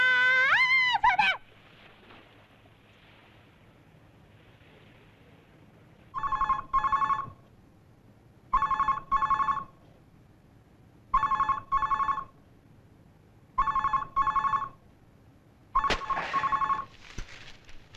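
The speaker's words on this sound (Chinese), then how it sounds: "电话。" A telephone bell rings in six evenly spaced double bursts, clear and fairly close, with near silence between rings after a brief opening noise.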